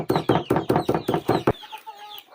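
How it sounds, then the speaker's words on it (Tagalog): Pet chickens clucking outdoors as they wait to be fed, a run of about seven loud, close, rhythmic clucks that then stop, leaving faint background calls. "nag-aantay sila ng pagkain nila yung aming mga alagang manok"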